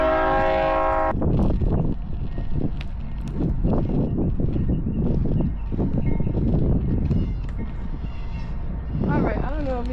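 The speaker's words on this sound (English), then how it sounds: "Sorry, train coming." A train horn blares briefly at the start, then the train rumbles past nearby with clattering wheels while a person on inline skates talks over it; another short horn-like tone near the end.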